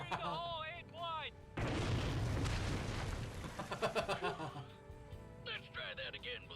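A heavy tank cannon blast from the Red vs Blue game erupts into a long rumbling explosion with crackling debris, framed by voices talking before and after.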